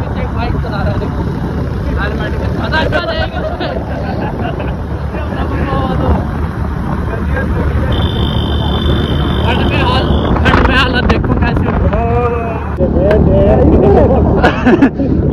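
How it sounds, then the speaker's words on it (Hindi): Motorcycle riding along a road in cold air, steady broadband wind buffeting and engine rumble throughout, with people talking over it at times. "अभी हम लोग दुकान से निकल चुके हैं और अभी से बाइक चला रहा है।"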